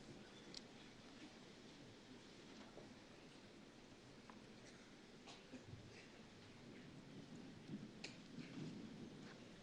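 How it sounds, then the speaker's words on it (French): Thunder rolls in a low, continuous rumble under steady rain over an outdoor clay tennis court, faint and distant, with occasional light ticks of drops. "On l'entend gronder cet orage."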